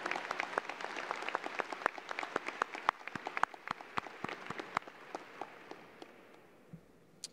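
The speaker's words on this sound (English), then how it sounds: "Let's give the top 10 graduates a big round of applause." Audience applause at a high school graduation ceremony for the class of 2021, a crowd clapping steadily from a distance and then thinning out toward the end.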